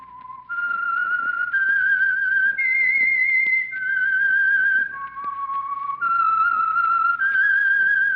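The whistled theme tune of The Whistler radio program, a lone clear whistle carrying a slow, eerie melody of sustained notes stepping up and down, close and alone.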